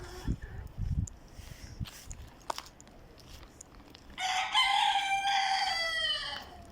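Rooster crowing loudly and close, a long drawn-out call in the last few seconds, after scattered clucks and soft scratching noises from chickens kept for laying eggs.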